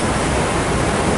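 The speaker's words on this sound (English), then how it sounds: "And there is the water coming in. The gates have opened." Water rushes in through opened river lock gates on the Chicago River, a loud, steady broadband roar with no breaks and no voices.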